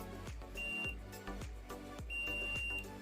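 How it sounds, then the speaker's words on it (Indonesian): A multimeter's continuity tester beeps while probing a shorted capacitor on a Xiaomi Redmi 4A phone board, two steady high tones about a second long each, heard close over a rhythmic low thumping background. "Jadi multitester saya bunyi"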